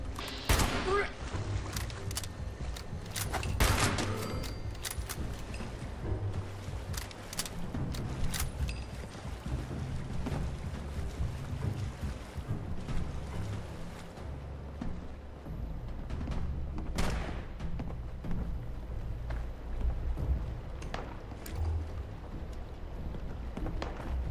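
Scattered distant gunshots crack sporadically, some in quick bursts, over a low rumbling ambient background in the game Fallout 76.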